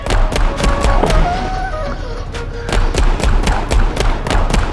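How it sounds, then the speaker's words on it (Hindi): Rapid bursts of gunfire in the video game Gangster New Orleans, sharp repeated shots in irregular clusters with a brief lull midway, loud and close. "गोलियां तो लग रही है गाइस इसको, पर थोड़ी टेढ़ी गोलियां लग रही है"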